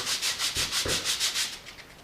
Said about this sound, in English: all we're doing here is sanding the surface. I think we've got about a 250 grit paper.